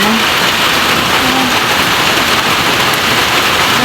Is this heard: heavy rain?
yes